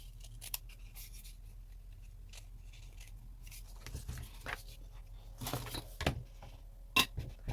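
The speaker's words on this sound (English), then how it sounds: "I don't want this fuzzy edge right here, so I'm just going to trim that off a little bit." Scissors snip off the fuzzy edge of a paper page from a book for pockets and envelopes, a series of sharp close cuts and light paper rustles with pauses between snips.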